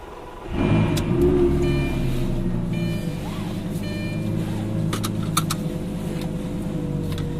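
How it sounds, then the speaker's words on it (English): A Lamborghini Gallardo engine cranks on a turn key and fires into a loud idle at close range, settling into a steady rumbling drone with faint clicks and chimes above it. "So it's got a turn key. Great startup noise on this"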